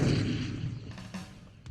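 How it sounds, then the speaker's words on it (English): A handmade replica Civil War cannon fires a ceremonial shot at a groundbreaking event at a Lake Mountain, Utah gun range: one heavy, booming blast that rolls off into a long, fading rumble. "take the first ceremonial shot fired from a handmade replica"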